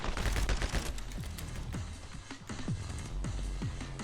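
Rapid machine-gun bursts from the Switch action game My Friend Pedro, dense crackling volleys of shots repeating throughout over a busy game soundtrack, loud and close.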